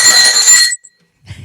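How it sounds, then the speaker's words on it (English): A small bell gives a single bright, ringing ding that rings on for most of a second before fading out, followed by a short quiet gap and then a faint low rustle. "That's the new dingy bell."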